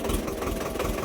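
A tractor engine runs steadily on a badly rutted, muddy village road, a continuous close, fairly loud mid-to-low rumble with slight knocking texture and no talk over it.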